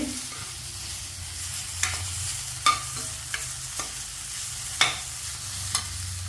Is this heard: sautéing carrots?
yes